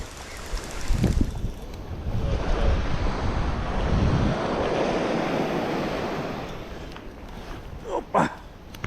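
Sea waves washing and surging along a shore during a fishing outing, a steady broad rush that swells and fades, with a brief sharper splash near the end.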